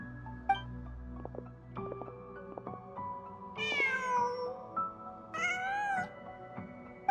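A video game cat meows twice, each a clear rising-then-falling mew, over a soft musical background with sustained tones and light plucked notes.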